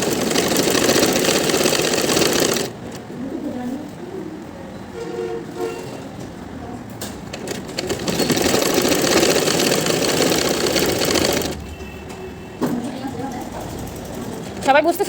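A sewing machine stitches a zipper into a kameez, running in loud whirring bursts with quieter gaps between them, while people talk nearby.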